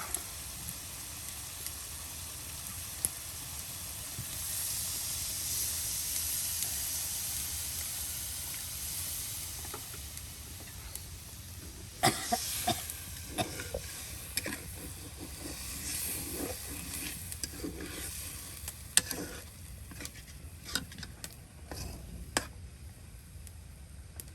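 Pieces of hilsa fish frying with spices, a quiet hiss that is faint at first and then turns into irregular sputtering pops and crackles.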